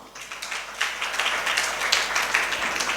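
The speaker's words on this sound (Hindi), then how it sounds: "आपने ताली बजा दी" An audience at a religious sermon claps together, a steady, moderately loud patter of many hands that swells after its start and holds through to the end.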